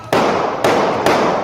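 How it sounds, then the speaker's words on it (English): Live-stream camera footage of more than a dozen gunshots in Seattle just before 3 a.m.: three loud, sharp bursts at spaced intervals, each followed by a sustained crackling roar, close and with no voices. "Video that captures what sounds like more than a dozen gunshots."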